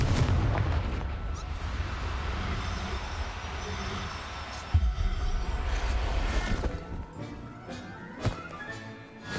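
In Hogwarts Legacy, a Confringo explosion spell goes off as a loud, deep rumbling blast that fades out, followed by a sharp boom and another smaller thud.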